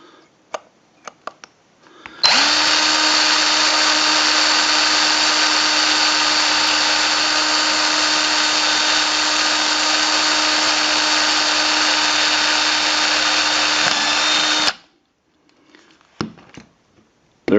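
A power drill with worn bits whirs steadily and loudly for about twelve seconds while drilling a hole for a Briggs & Stratton primer bulb repair, framed by a few faint clicks and taps before and after.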